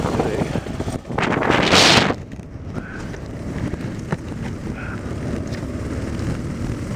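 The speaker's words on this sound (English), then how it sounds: "I got a hell of a north wind today." Strong north wind buffeting the microphone during a KLR motorcycle ride, a loud roaring rush that surges near the start, then settles into steady blustery noise with road rumble beneath.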